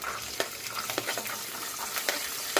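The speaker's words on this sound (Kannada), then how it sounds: "ಬಟಾಣಿ ಹಾಕೊಳಕತ್ತೀನಿ." Green peas tipped into a hot frying pan with oil, giving a steady crackling sizzle with a few sharper stir-and-scrape clicks, close up, with no voices.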